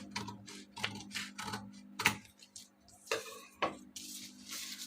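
A katori blouse pattern being cut out, heard as a quiet series of soft, irregular cutting crunches and rustles with short pauses between strokes and no talking.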